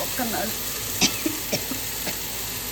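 Sliced onions frying in oil in a pan for a tamarind curry, a steady soft sizzle with a few light stirring clicks on top, close and moderately loud.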